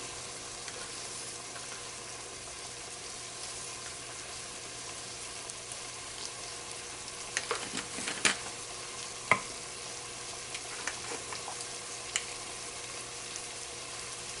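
Food warms through in a pan, a faint steady sizzle running throughout, with a few soft scrapes and taps of a utensil near the middle, and no one talking.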